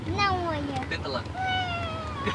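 A young girl imitates a cat's meow, giving two drawn-out, falling meows close to the microphone with a short gap between them, over a light background hum.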